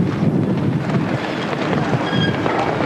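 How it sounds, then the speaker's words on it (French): Strong, steady wind roars and buffets the microphone with low rumbling gusts, continuous throughout and with no voices. "Et vous l'entendez, beaucoup de vent."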